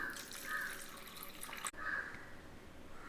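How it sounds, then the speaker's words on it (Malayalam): Water poured into a pot of chicken curry, a soft running, gurgling trickle heard close by at a steady low level, briefly interrupted midway before continuing, with no speech. "നമുക്ക് അത് വേവാൻ ആവശ്യത്തിന് വെള്ളം ഒഴിക്കാം"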